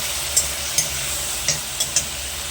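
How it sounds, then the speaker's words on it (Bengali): Ground spice paste fries with tomato in a pan, making a steady, close sizzle broken by a few light spoon scrapes and taps. "এই টমেটোটার মধ্যে আমি এই বেটে রাখা মশলাটা দিয়ে দেবো। দিয়ে এটাকে ভালো করে কষিয়ে নেব।"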